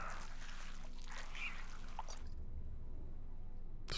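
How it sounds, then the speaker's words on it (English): Acid bubbles and fizzes wetly in the video game Stasis: Bone Totem, a steady liquid churn that stops abruptly partway through, leaving a low, quiet rumble. "I can hear bubbling noises."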